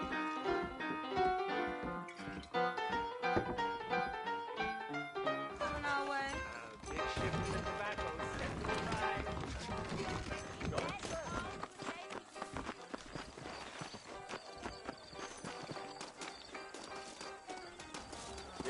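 In Red Dead Redemption, horses trot along with steady hoof clip-clops beneath music and ongoing speech, the hoofbeats keeping a brisk, even rhythm throughout.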